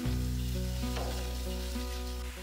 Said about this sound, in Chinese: 接下来倒入不粘的平底锅中炒制， 全程用中小火避免糊底。